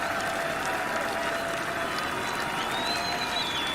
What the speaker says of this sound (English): there were longer applause here, not just the polite golf clap there